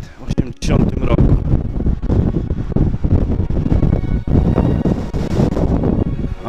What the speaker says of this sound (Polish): Ale wiatrzysko.